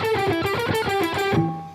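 Distorted electric guitar playing a quick blues lick from a song, a fast run of picked notes ending on a ringing sustained note, close and clear with no voices.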